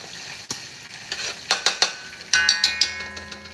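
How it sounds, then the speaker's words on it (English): Tomato paste fries in a pot for Liberian-style red kidney beans, a close sizzle punctuated by a rapid series of metal spoon scrapes and clanks against the pot. "I want the tomato paste to fry and kind of like separate from each other"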